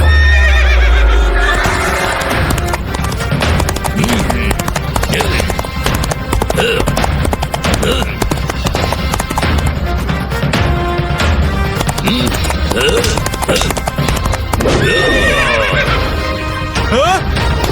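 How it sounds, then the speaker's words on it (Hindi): Horses gallop along a road with rapid clip-clopping hooves and loud whinnies at the start and again near the end, dense and close, with busy background noise throughout. "कौन है ये जो सड़क पे घोड़े दौड़ा रहा है?"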